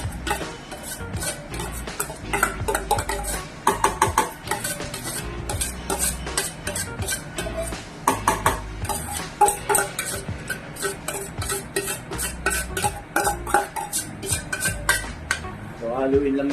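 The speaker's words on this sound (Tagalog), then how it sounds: "So haluin lang natin. Ganyan." Garlic bits frying in hot oil in a pan while being stirred, with a steady sizzle under repeated clinks and scrapes of the utensil against the pan, close and busy throughout.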